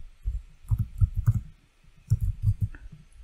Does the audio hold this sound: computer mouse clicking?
yes